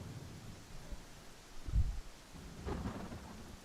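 Rain falls steadily in a Pathfinder: Kingmaker thunderstorm while low rumbles of thunder roll in, one heavier boom in the middle and another fainter one toward the end.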